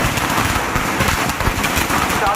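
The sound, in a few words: firecrackers bursting at election campaign welcome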